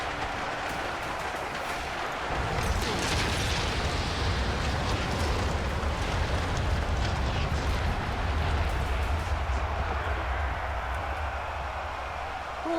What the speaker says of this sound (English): sometimes you forget just how big the explosion radius of the nuke is